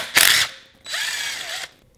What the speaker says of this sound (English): Sounds like a loose magnet.